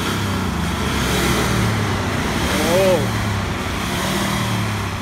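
Diesel car engine with an injector fault idles, then revs once and drops back, loud and close with a rough steady rumble; a voice speaks briefly over it.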